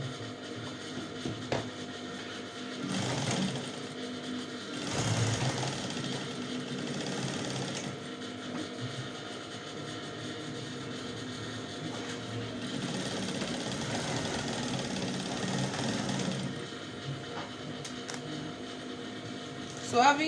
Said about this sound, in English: So the next thing I'll do is to just top stitch from here down to here